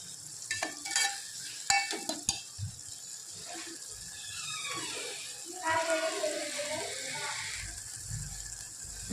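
Tomato-onion gravy fries and sizzles in a pan while a spoon scrapes and stirs it, with a few sharp clatters at the start and a voice speaking faintly in the background.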